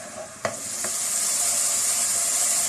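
Tomato puree frying with cumin, garlic and ginger in a pan for shahi chicken handi, a steady close sizzle and hiss with a couple of sharp stirring clicks near the start, no talk.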